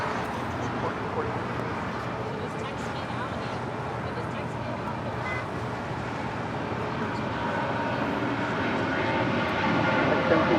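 An Alaska Airlines jet roars down LAX runway 25 right on takeoff, a broad steady engine rumble that swells slightly toward the end, heard from a distance under faint tower radio chatter.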